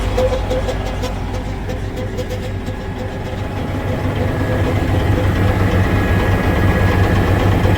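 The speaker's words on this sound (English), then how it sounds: "Oh, that pump sounds terrible." Badly running pump on a vehicle, heard as a continuous loud low droning rumble with steady vibration and a faint high whine, growing slightly louder through the stretch with no talk over it.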